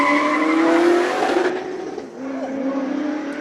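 Rear-wheel-drive 7-litre V8 race car at a hill climb, engine roaring loud and close as it accelerates, pitch climbing steadily before dropping off and building again farther away, with crowd or commentary noise underneath.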